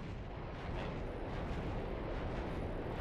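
Conventional rockets launch from an artillery machine in the Minecraft Voltz game as a continuous, deep rumbling roar, dense and steady like a sustained barrage, with no talking.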